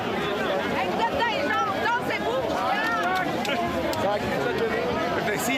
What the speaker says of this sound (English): Just want to listen in a little bit, if we can, to the crowd noise here.